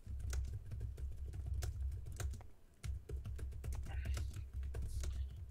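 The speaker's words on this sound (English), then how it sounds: "Just typing the chat." Rapid, irregular clatter of keys on a computer keyboard as someone types a chat message during an online tabletop game session, close and steady throughout with a low background hum.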